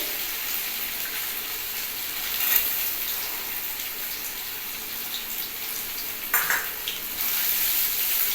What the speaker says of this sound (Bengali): এই নারকেলটা একটু তেলের মধ্যে ভেজে নিতে হবে